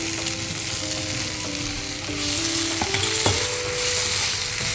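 Beans, peas and carrot pieces fry and are stirred in a pan, giving a constant close sizzle with occasional scrapes and clinks of the spoon, no voices present.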